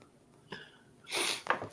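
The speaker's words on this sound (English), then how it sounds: "I'm going to go before I start sneezing all over." A single sharp sneeze bursts out after a short intake of breath, close and fairly loud, followed by a brief nasal snort.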